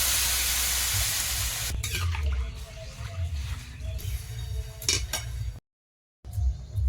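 Water poured from a tap or vessel onto lightly fried mung dal in a pot, a continuous rushing splash at first, then softer trickles with a few utensil clinks and a brief silent gap.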